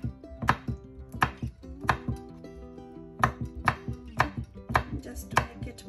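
Knife chopping red pepper chunks on a cutting board, a quick run of sharp near chops in uneven bursts, clear and alone with no talk.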